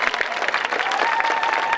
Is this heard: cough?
no